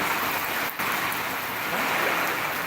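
Heavy rain pours steadily in an outdoor market setting during a cyclone warning, a dense continuous hiss of drops with no voices.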